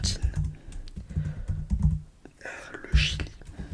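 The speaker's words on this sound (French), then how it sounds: "j'espère que le bruit du clavier vous relaxe. Normalement, il est plutôt cool. C'est le clavier du Mac." Clicking keys on a Mac keyboard in quick irregular bursts, close up, with soft whispered speech in between.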